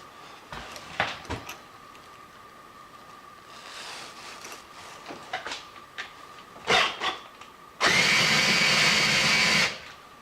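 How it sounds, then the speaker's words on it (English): Several short power-drill bursts whir on and off, then a longer, louder run of steady drilling lasts nearly two seconds near the end. "drill down until we get to pretty much the bottom of that drill bit"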